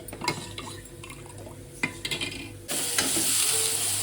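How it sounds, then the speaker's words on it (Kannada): Ingredients frying in a pan for home-style sambar, with scattered stirring scrapes and clinks over a low sizzle that swells into a loud, steady hiss partway through. "ಇದೆಲ್ಲ ಕ್ಲೀನಾಗಿ ಚೆನ್ನಾಗಿ ಫ್ರೈ ಮಾಡ್ಕೋಬೇಕು"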